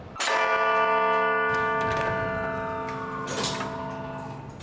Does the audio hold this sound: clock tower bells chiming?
yes